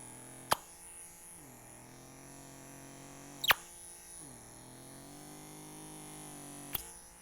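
Steady electric buzz from a pore vacuum suction device held close, with its pitch dipping slightly as it grips the skin and a few sharp clicks at intervals, no talking.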